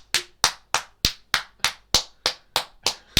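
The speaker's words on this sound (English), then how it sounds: "That was enough claps." Eleven sharp, evenly spaced claps ring out in a steady rhythm over about three seconds, close and loud, each one crisp and separate, with no voices.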